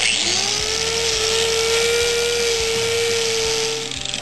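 A grinder polishes steel and aluminum with a special white paste, giving a loud, steady high-pitched whine with a constant tone that runs without a break and dips slightly near the end.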